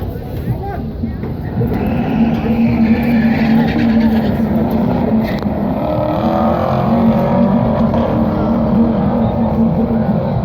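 A Saab and a Mazda 3 race side by side at a drag strip, a loud sustained engine roar that builds and holds with rising gear pitch as the cars run, heard from nearby with no clear talk over it.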